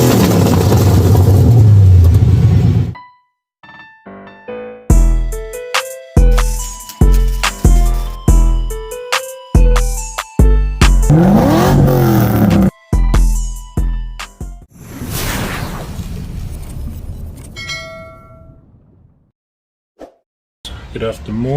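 A Ford BA Falcon XR8 V8 engine with newly fitted ceramic coated Pacemaker Tri-Y headers starts and revs in short, sharp bursts, roaring up and dropping repeatedly, close and loud, with some speech-like noise mixed in.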